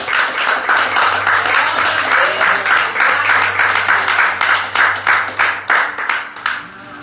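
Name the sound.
church congregation applauding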